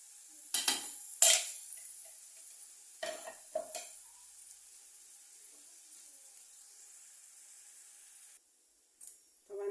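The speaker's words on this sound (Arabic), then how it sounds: "ان البصل لازم يتحمر جدا جدا جدا، يعني يكاد يكون قرب يبقى لونه اسود" Onions frying for fish sayadieh, with a faint background sizzle and a few scraping stirs of a utensil against the pan, followed by a quieter stretch.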